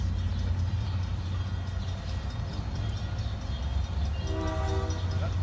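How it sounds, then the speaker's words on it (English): Train passing during an outdoor evening family vigil in Needham, a steady rumbling roll of rail cars with a horn sounding near the end, moderately distant. "Wait till the train passes."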